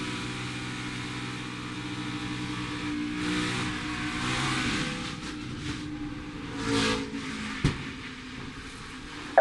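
NASCAR Xfinity race car engine heard during a race at Charlotte, a steady droning in-car roar with shifting tones, holding constant for the whole stretch, ending in a sharp knock and click.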